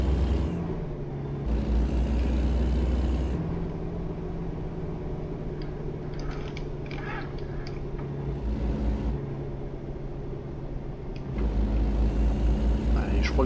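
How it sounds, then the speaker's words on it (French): A steady, low diesel truck engine in American Truck Simulator drones throughout, with tractor-like rumbling swells as it revs and someone talking over it. "ce camion, il fait un peu tracteur, le bruit, je trouve."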